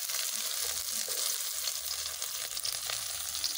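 Onions frying in a pan with mustard seeds for village-style blood poriyal, a strong continuous sizzle close up, broken by occasional scraping stirs.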